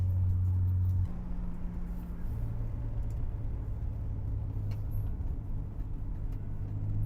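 Nissan 300ZX with a twin-turbo 3-litre V6 driving on the road, its exhaust giving a deep, steady low rumble that shifts pitch once or twice as the car moves along.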